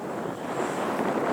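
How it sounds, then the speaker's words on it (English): Santa Ana wind blows steadily on a dry, windy day where a horse is being worked, a continuous close rushing roar across the whole stretch with no speech. "it's a windy day and we're going to have a little bit of that."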